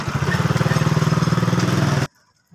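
A motorcycle engine runs close and loud with a steady, rapid chugging pulse for about two seconds, then cuts off abruptly into near silence.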